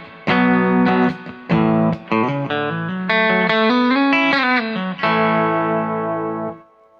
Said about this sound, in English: Let's give a listen to just the clean sound of the guitar itself.